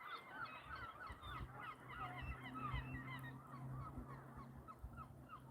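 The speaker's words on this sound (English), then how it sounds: "Oh, listen to the seagulls." Gulls call over a frozen ocean, a dense chorus of many overlapping cries that continues steadily, moderately distant, with no talking.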